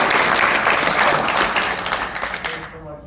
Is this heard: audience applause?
yes